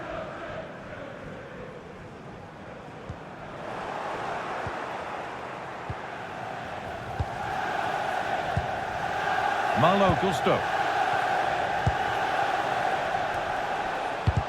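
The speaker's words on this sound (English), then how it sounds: "Well, just listen to this crowd." A huge stadium crowd roars and chants in a football video game's career mode, a sustained loud wash of voices swelling through the clip, with a commentator speaking over it.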